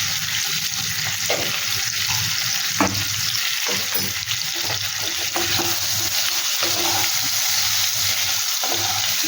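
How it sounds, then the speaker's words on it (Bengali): Potato pieces tossed with turmeric and salt sizzle and crackle in hot oil in a pan, a dense continuous frying hiss broken by occasional stirring clinks and scrapes, close and fairly loud. "এইবার আলুগুলোকেও ভালো করে ভেজে নিতে হবে"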